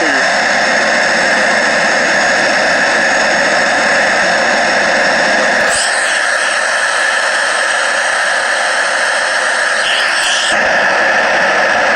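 Airliner jet engines in the Infinite Flight game hold a loud, steady whine and roar throughout, with short radio-like bursts breaking in twice.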